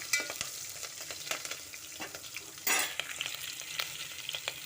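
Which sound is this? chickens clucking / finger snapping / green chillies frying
green chillies frying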